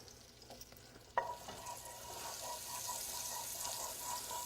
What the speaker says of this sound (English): And that sounds good and hot to me, sizzling.